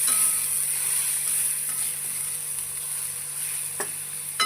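Mixed beans, eggplant and potato roast in a pan over a low flame with a soft, steady hiss, broken by a couple of faint clicks near the end.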